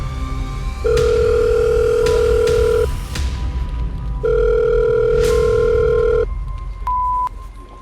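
A phone ringback tone sounds twice, each long two-second ring separated by a pause, followed by a short higher beep.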